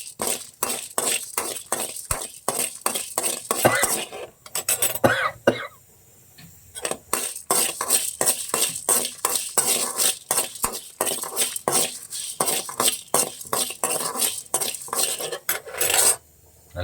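Dal and dried chillies dry-roasting in a kadai, heard as a rapid run of sharp metallic scrapes and clinks from a spoon against the pan, close and busy with a short pause partway through.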